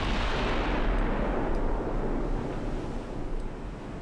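A battleship's big guns fire a salvo in the naval warfare game Ultimate Admiral Dreadnoughts, heard as a loud, sustained, rumbling boom that slowly decays across four seconds, with no speech.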